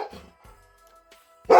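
A puppy lets out a single loud bark near the end, after some faint movement noise and a quiet stretch in a home during a snowstorm.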